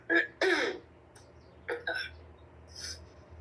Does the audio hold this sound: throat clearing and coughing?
yes